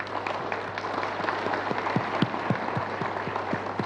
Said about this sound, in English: I believe we deserve a big round of applause.